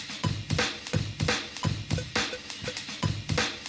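A metronome ticking over a mistuned, wrong-pitch Amen break sample, the drums clattering in a jumbled pattern against steady clicks at roughly a beat every half second, loud and alone.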